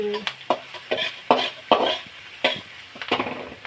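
Ginger and garlic going into frying onions, heard as a series of close, rhythmic scraping stirs with light sizzle between strokes.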